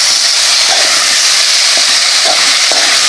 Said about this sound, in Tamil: இந்த கிழங்க போட்டு நல்லா எண்ணெயிலேயே வறுத்து எடுத்துக்கலாங்க